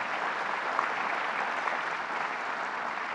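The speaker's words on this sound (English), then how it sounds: "Let's give her a round of applause." A crowd at a government project announcement in the Ithaca–Tompkins region gives a round of applause for a senator. The clapping is dense and steady and moderately distant, with no speech over it.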